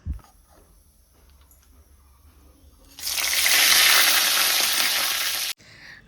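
Tempering spices (phoron) with crushed ginger hits hot oil in a pan, setting off a loud, steady sizzle that starts abruptly after a quiet stretch and stops suddenly about two and a half seconds later.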